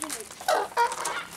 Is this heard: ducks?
yes